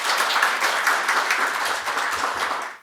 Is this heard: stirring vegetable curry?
no